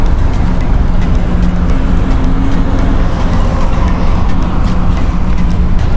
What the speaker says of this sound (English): that's how the cars cross the toll before entering the society